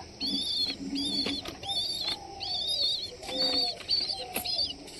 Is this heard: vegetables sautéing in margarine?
no